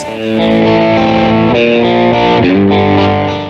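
Electric guitar played through a solid-state amp set for crunch distortion, loud sustained chords that ring and shift with a gritty, buzzing edge, alone with no talking.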